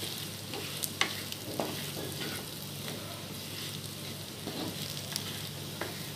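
Mutton sizzles steadily in a pan with green chillies, a continuous frying hiss broken by occasional scrapes and clinks of stirring, with no talking.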